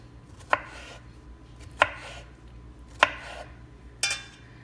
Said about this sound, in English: So I'm gonna slice all of them